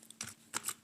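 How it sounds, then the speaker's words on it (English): Brief bursts of keys being struck on a computer keyboard, two quick clusters of soft clicks close by in a quiet room. "So I'm gonna type in the title"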